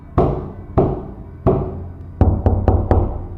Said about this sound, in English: the knocking grew louder